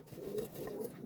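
Pigeons in a loft coo softly in low, rolling calls, faint and close, repeating a few times over a quiet background.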